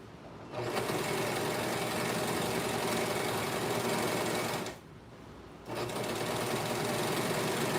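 A heavy duty sewing machine stitches skirt fabric, a loud close whirring drone that runs for several seconds, drops out briefly, then resumes.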